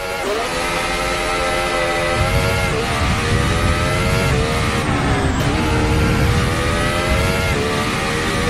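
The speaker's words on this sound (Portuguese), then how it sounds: "Vamos escutar o barulhinho desse motor de Fórmula 1 aqui." A high-pitched Formula 1 hybrid engine in a Mercedes-AMG One screams continuously in a racing video game at Nürburgring, its pitch climbing through gear changes and dipping briefly, loud and close with no talking.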